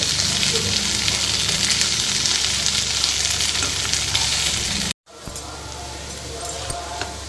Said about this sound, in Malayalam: നല്ലതുപോലെ ഒന്ന് ഇളക്കി നമുക്കിത് ഫ്രൈ ചെയ്തെടുക്കാം